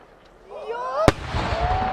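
A size 8 aerial firework shell at the Aizu fireworks competition: a rising whistle climbs, then a single sharp, loud burst cracks, followed by a lingering crackle and rumble.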